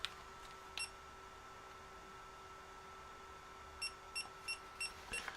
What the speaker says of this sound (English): Beep beep.